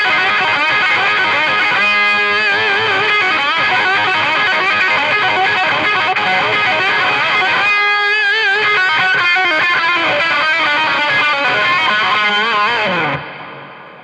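Heavily distorted electric guitar rips through a fast rock lick full of string bends and vibrato, loud and continuous, played alone before the notes cut off at the end.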